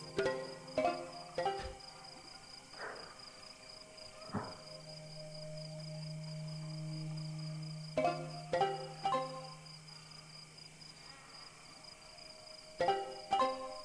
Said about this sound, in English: it's nighttime. It's pretty. You can hear the crickets.